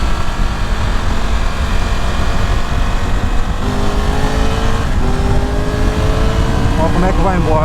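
A Triumph Tiger 1200 Rally Explorer motorcycle engine revs hard and accelerates, a loud continuous roar with rising tones as it climbs through the gears, heard close with a rider's voice over it.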